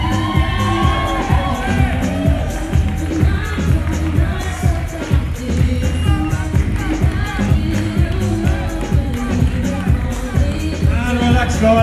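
An audience at a 2018 bodybuilding classic, men's overall, cheers, whoops and shouts continuously in a loud hall while an announcer talks over the crowd.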